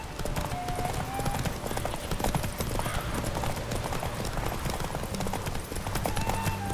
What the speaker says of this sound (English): Grab your bridles and hang on to your saddles! Ride on for Freya!